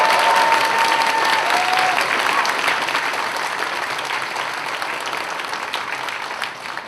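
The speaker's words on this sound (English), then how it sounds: "let's have a big round of applause, first of all, for our guests, for our hosts" Audience applause for the hosts at the CFz2018 opening ceremony, a loud, dense round of clapping that fills the room, then eases off slightly and carries on steadily to the end.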